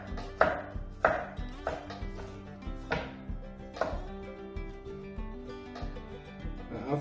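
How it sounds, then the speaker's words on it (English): A knife thinly slicing garlic taps against a cutting board in a steady series of close, crisp chops, about one every second, with no talking. "you can thinly slice the garlic like that"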